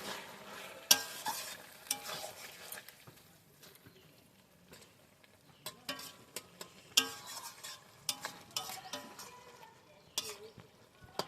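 A spoon stirs lata fish curry with bottle gourd in a pan over sizzling heat, giving irregular scraping and clattering strokes in bursts with quiet pauses between them. No one speaks.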